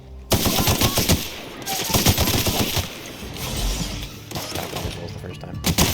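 Rapid automatic gunfire in The Outer Worlds, loud sustained bursts with brief pauses between them, mixed with game effects and music.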